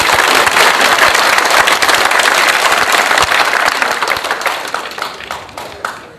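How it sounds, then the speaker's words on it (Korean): Dense audience applause at a memorial ceremony held in a hall at Seoul National Cemetery, loud and steady at first, then thinning and fading toward the end. "박수로 응원해 주십시오."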